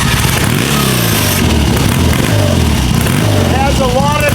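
A 1970s motorcycle engine, a 1977 Triumph Bonneville or 1973 BMW R90/6, runs loud and close with a continuous throbbing idle that lifts into a rev near the end, while someone talks over it.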